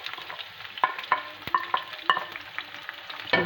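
Green pepper and a little chilli frying in olive oil, a soft sizzle under repeated sharp taps and clinks of a utensil stirring in the pan, close and fairly quiet, with no talk.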